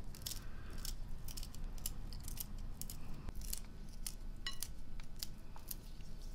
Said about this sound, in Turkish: Şimdi cevizi biraz iri iri dişe gelsin diye bıçakla keseceğim.